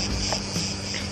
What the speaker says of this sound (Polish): napotykamy lasek na skałach, który jest pełen naszych ulubionych cykad